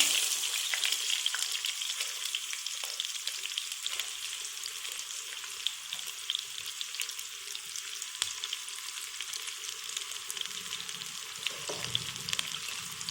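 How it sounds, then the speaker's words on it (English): Onions and curry leaves sautéing in hot oil, giving a steady, fairly loud crackling sizzle with scattered pops, heard alone without talk. "Saute the onions till they become brown."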